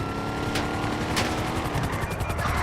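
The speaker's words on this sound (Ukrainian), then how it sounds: "От уже вертольот летает." A police helicopter in GTA 5 chops overhead at a high wanted level, its steady rotor drone mixed with bursts of gunfire and a couple of sharp impacts.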